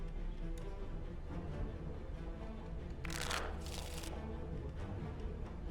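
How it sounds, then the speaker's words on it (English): Cards being shuffled in the video game Dragon Age Origins, a soft riffling burst in the middle over steady background ambience, fairly quiet and with no talking. "Before we start, the cards must be shuffled."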